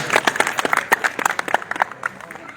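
Sparse, uneven hand claps from a political rally crowd in Punjab, a few dozen hands clapping in scattered bursts over about two and a half seconds, fairly close and moderately loud with no talking.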